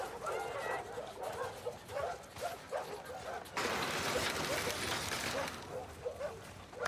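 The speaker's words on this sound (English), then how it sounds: "Hey, you crazy dog." A dog in The Last of Us Part II, set in Seattle, lets out a run of short whimpers and yips, then a burst of broad noise. The sounds are moderately close and come without speech.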